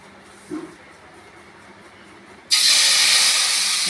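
Batter poured onto a hot oiled griddle (tava), a sudden loud, bright sizzle that bursts in and holds steady after a quiet stretch with a faint clink, no talking.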